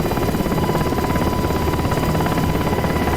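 A UH-60 Black Hawk helicopter hovers low over a runway in the DCS World flight simulator on a Syria map, its loud, steady rotor and turbine drone filling every moment with no talk.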